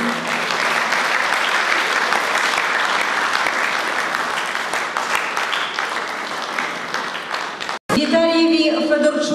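An audience at a brass band concert celebrating the Prosvita building's 50th anniversary gives dense, sustained applause. The clapping stops abruptly and the band begins playing.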